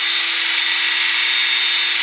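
A power drill spins a polishing pad across the plastic headlight of an Acura TSX, a steady, unbroken high whine held at constant pitch, close and loud, with no talking.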